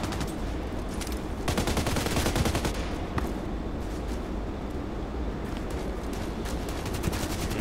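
Gunfire sounds in the online shooter Contract Wars on the map Evac. Dense, rapid shots crackle continuously in sustained bursts over a steady rumbling game background.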